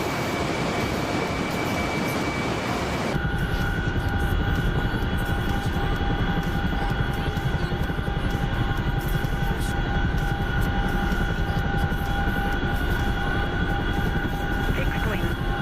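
A helicopter flying at night with a steady loud rotor and engine drone, constant and close, changing tone abruptly a few seconds in, with a voice speaking over it.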